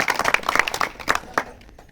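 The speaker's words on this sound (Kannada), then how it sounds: "ನಾವು ಗಟ್ಟಿಯಾಗಿ ಅಪ್ಪನಿಗೆ ಚಪ್ಪಾಳೆ ತಟ್ಟಬೇಕು." A group of pilgrims on a foot pilgrimage to Anjanadri hill claps together, a brisk run of close, irregular hand claps lasting under two seconds before trailing off.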